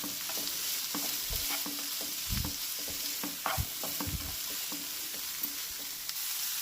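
Leftover rice stir-frying in a hot pan, a steady sizzle with repeated scraping and stirring knocks from a spatula, close and continuous with no talking.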